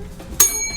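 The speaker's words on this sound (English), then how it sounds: "See, there's the bell." A single bright bell ding rings out as a comic sound effect, a short sharp strike with a brief shimmering decay.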